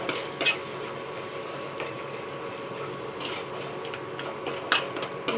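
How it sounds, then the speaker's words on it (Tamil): Tamarind gravy bubbling in a pot while it is stirred, giving a steady low simmering hiss with intermittent scraping and clinking of the spoon against the pot, close and moderately loud. "புளிக்குழம்பு நல்லா கொதிக்குது."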